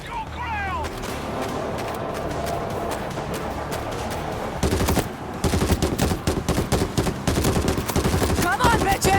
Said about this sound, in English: Machine gun is set.